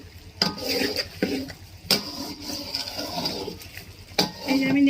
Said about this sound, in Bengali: এই যে আমি নেড়ে নিয়েছি ভালো করে